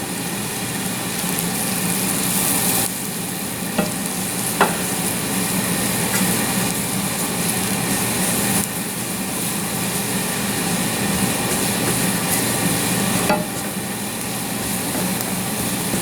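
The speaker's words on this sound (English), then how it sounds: "Whisk that in." Something is whisked into a hot pan while making parsnip patties, producing a steady loud hiss and bubbling sizzle with a few faint clinks of the whisk.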